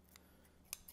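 Scissors snipping open a plastic bag that holds a poached egg, a few quick, faint cuts with one crisper snip near the end.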